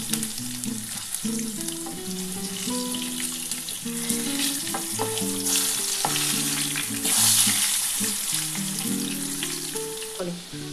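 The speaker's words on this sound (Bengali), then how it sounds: "একটু লাল লাল করে ভাজা হলে আমি আলুটা তুলে নেব।" Potato pieces fry in a pan of hot oil for a Bengali mutton curry, giving a steady close sizzle that carries on for the whole stretch, with soft tonal music running underneath.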